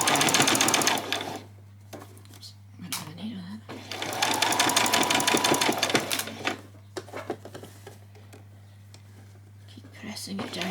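Sewing machine stitching a ruffle onto fabric for a spring outfit, moderately loud rapid whirring runs separated by pauses, fabric handling and someone talking quietly in between.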